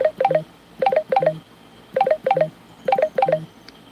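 A phone rings with repeated pairs of electronic trill bursts in a steady rhythm, loud and close, with no talking over it.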